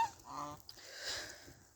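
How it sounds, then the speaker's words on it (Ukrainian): A gander in a farmyard gives a couple of nasal honks, fairly faint and outdoors, with soft background rustle and no speech. "три гусаки разом з Жеком і чотири качки"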